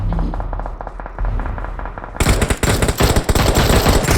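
Rapid automatic gunfire from a video game, with quieter bursts at first, then loud, dense, continuous shooting from about halfway through.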